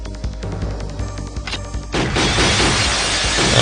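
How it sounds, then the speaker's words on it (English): Skeleton enemies in a retro video game shatter with a bright, crashing glass-breaking sound, a burst of loud smashes that thickens into a dense, sustained crash. "I'm not too sure why the skeletons sound like a lot of shattering glass."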